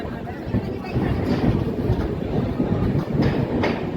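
Steady rumble of the Sachkhand Express passenger train between Nanded and Chhatrapati Sambhajinagar, with rhythmic wheel clatter on the rails, continuous and fairly loud throughout.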